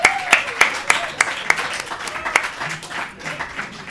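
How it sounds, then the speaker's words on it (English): A conference audience applauds website developers with a modest round of clapping in a hall, made of distinct claps that thin out over a few seconds while voices murmur underneath. "How about a round of applause for our website developers?"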